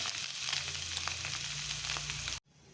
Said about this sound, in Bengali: একটু লাল লাল করে ডিমটা ভেজে নিয়েছি।